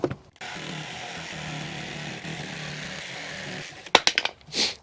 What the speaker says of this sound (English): sometimes with a jigsaw, you do have to do a couple of different weird cuts to make it happen